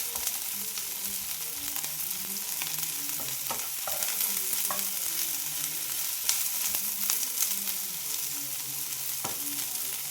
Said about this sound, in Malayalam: തുറന്ന് വെച്ച് തന്നെ ഈ സവോളയും കൂടെ ഒന്ന് വാട്ടിയെടുത്താൽ മതി